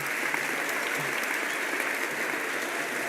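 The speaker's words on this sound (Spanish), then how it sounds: "Un aplauso para todos ellos." Steady audience applause at a handball association gala, an even, sustained wash of many hands clapping at a moderate distance with no voices over it.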